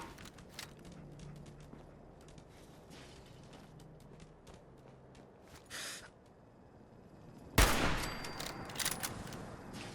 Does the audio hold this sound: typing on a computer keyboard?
no